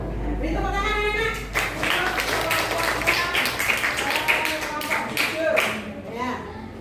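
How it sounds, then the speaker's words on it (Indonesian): Children clapping together in a classroom during a lesson on teak trees, a brief burst of fairly loud, busy hand claps mixed with voices and chatter. "Beri tepuk tangan anak-anak."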